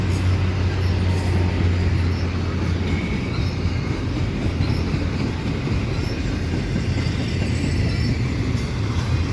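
A CPKC freight train with CP and KCS locomotives rolls out of Dorval, a loud, steady rumble of wheels and cars with a low engine drone early on.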